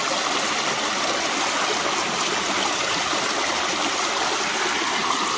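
Stream water rushes steadily over a gold sluice set down on bedrock in West Virginia, a dense, even roar that stays loud and close for the whole stretch with no voices.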